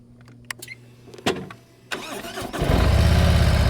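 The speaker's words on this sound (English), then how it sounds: "listen to the engine" Motorcycle during slow-speed riding practice: a few sharp mechanical clicks and a brief crank, then the engine catches and settles into a loud, steady idle rumble.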